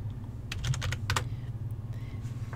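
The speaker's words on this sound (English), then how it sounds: "I'm going to just type trapezoid" Fast typing on a computer keyboard, two close bursts of key clicks over a low steady hum, with nobody speaking.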